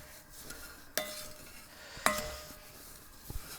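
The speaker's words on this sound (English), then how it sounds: "And now I just stir." Mulberry jam with sugar and lemon juice being stirred in a pot, with two sharp clinks of a utensil against the pot rim and soft scraping between them, close and fairly quiet.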